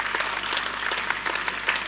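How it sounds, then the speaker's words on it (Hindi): An audience at a Hindi hasya kavi sammelan comedy poetry stage show claps together in a steady, moderately loud patter of applause that lasts the whole short stretch, with no voices on top. "एक बार जोरदार ताली बजाइएगा साहब।"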